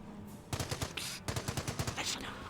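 A .30 cal machine gun firing in the video game Company of Heroes: two rapid, rhythmic bursts of loud close shots, each about half a second long, separated by a brief pause, with no voices.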